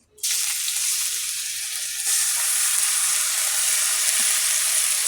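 Vegetables for a shukto sizzling in a hot karai, a steady broadband frying hiss that starts abruptly and swells a little louder midway, continuous and close with no talk.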